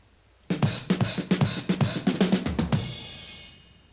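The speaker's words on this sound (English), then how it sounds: "now we'll do a little fill for that beat." A short rock drum fill rolls quickly across the kit, close and punchy, a rapid run of hits that ends on a crash cymbal fading out.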